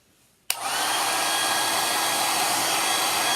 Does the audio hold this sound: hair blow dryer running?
yes